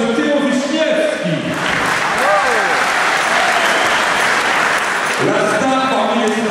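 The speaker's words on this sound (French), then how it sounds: "Je vous demande d'applaudir bien fort M. Théo Wyszniewski." A hall audience applauds Théo Wyszniewski at the 85th anniversary celebration of the Harmonia band in Bully-les-Mines, with steady, loud clapping throughout while music and voices carry on alongside it.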